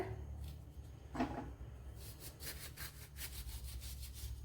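A knife cuts through curry lemons (curry naranga) for a sadya curry, giving soft repeated scraping and slicing strokes, close and fairly quiet, with one firmer cut partway through and no talking.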